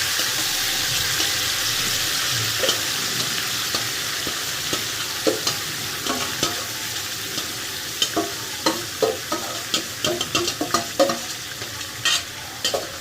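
Chicken sizzles steadily in a pan with no water added, while a utensil stirs and scrapes, the clatter growing busier and more rhythmic toward the end.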